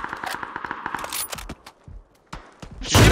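Video game gunfire crackles in quick rapid bursts, a string of sharp close shots followed by a pause and a few more isolated shots, ending in a louder burst.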